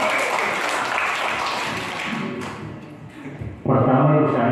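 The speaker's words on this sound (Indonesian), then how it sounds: "Tepuk tangan dulu." In a school classroom, an audience claps to honor a new teacher, a brief scattered patter of applause fading out before a voice begins speaking.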